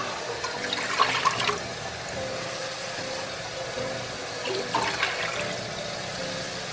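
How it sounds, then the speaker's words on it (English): Water pours into a pan in two separate splashing bursts, a cup being emptied each time, close and moderately loud over a quiet room background. "We're gonna start with a pan, and then we are going to be adding 7 cups of water to it."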